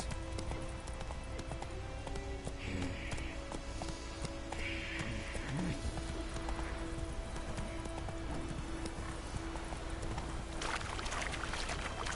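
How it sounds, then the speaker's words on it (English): Hooves clip-clop steadily throughout as a horse walks in The Witcher 3 video game, with a constant ambient game background, a brief whinny-like sound partway through and a faint voice near the start. "Whoa there, Roach. Move it."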